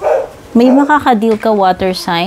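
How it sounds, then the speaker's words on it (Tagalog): A dog barks and yips in quick, loud bursts close by, overlapping a person speaking. "pasensya na po sa ingay ng aso"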